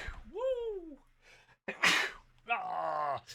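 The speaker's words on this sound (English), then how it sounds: "Hold up, I'm gonna sneeze." A person lets out a drawn-out groaning build-up and then a sharp, loud sneeze, followed by a vocal exclamation, close to the microphone.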